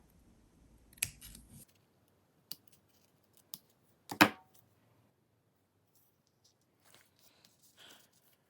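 Scissors snip paper in a quiet room, a handful of sharp isolated cuts and rustles spaced apart, close by.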